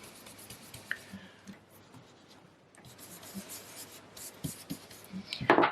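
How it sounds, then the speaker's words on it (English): A small card panel's corners are distressed with Pecan Pie ink, giving soft, close scratchy rubbing strokes in short irregular bursts, mostly quiet with a louder scrape near the end. "I'm just distressing the corners"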